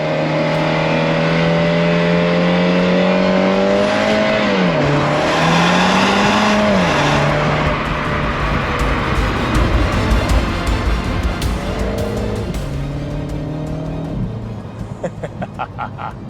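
A MINI JCW Convertible is driven hard through corners, its engine loud and close as revs climb, dip and climb again through repeated gear changes, with tire noise underneath and no talking.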